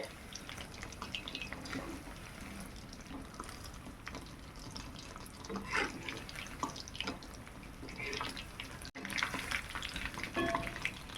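Pieces of chicken 65 deep-frying in oil give a steady crackling sizzle with bubbly pops throughout, close and fairly quiet, with no voices.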